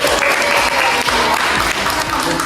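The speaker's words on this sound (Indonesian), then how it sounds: "Oke, tepuk tangan dulu." A classroom of students bursts into dense, continuous applause, loud and close, with faint voices mixed into the clapping.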